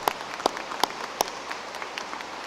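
Scattered clapping from an audience at a college commencement ceremony, thin and somewhat distant, with a few sharper claps standing out over a soft wash.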